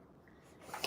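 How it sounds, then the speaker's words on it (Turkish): A single short sneeze from a child near the end of the moment, rising from quiet breathing into a sharp burst, close and fairly loud. "Sen ne yapıyordun? Sen hapşırdın."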